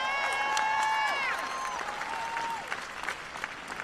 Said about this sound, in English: let's please give Senator Booker another round of applause